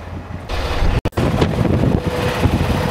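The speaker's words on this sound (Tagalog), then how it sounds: "ang lakas ng hangin" Strong gusts of wind buffet the microphone outdoors near a truck during a post-trip stop, a steady loud rumble with a brief dropout around the one-second mark.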